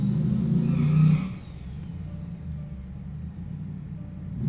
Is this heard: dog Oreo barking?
no